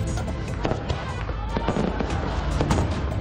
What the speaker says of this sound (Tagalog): Nagliwanag ang kalangitan sa makukulay na fireworks sa Oroqueta City sa Misamis Occidental.